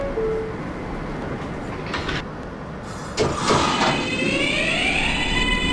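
A Brooklyn-bound J local subway train in the OpenBVE simulator shuts its doors with a thump and then pulls away, its motors whining and rising in pitch over a steady rumble.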